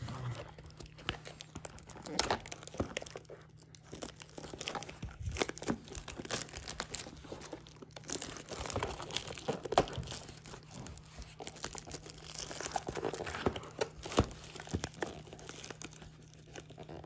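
Packaging of a 2020-21 Upper Deck Series 2 hockey card blaster box is torn and crinkled in repeated irregular bursts for a long stretch, with a constant low hum behind and occasional voices.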